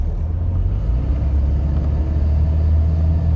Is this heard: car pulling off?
yes